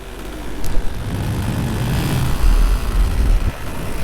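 Minari F1 paramotor engine idling in flight over Koh Larn, a steady low propeller drone with airy wind rush, fairly close and continuous with slight swells in level.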